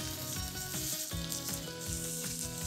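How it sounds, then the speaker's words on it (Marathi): Finely chopped onion sizzles in two spoons of hot oil, a steady bright crackle running through the whole stretch beneath background music, with no talking. "आणि कांदा सोनेरी रंगावर परतून घेऊया"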